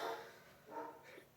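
A dog barks twice in quick succession, fairly close and fairly loud, with no other sound over it.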